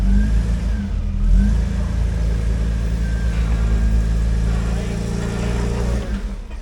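An off-road build vehicle crawls over a rock obstacle course, its mid-pitched engine droning steadily loud with slight revving swells throughout, fading slightly at the end.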